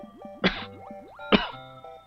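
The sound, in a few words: coughing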